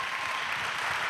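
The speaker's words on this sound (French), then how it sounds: "C'est un bon désir. Acclamation." Congregation applause at a pastoral academy church session, a steady broad wash of clapping lasting about a second at moderate level.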